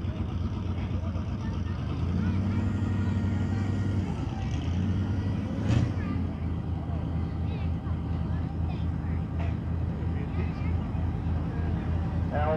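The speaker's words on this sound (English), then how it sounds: "it sounds like a gas engine in that thing" A gas-engine tractor pulling at an antique tractor pull at an Allis-Chalmers collectors' show, a steady rumbling engine drone heard from a moderate distance, with a commentator talking over it.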